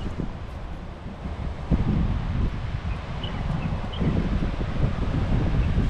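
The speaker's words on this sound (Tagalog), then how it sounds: "Ayan po, mahangin na po siya." Strong wind ahead of approaching rain buffets the microphone in a steady, roaring rush, with leaves rustling and gusts swelling midway; no one speaks.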